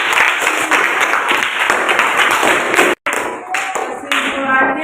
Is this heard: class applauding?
yes